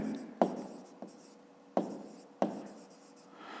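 A pen scratches on paper while a fifth-grade math exercise is written out, with a few distinct strokes and taps spaced irregularly, close and quiet, heard alone.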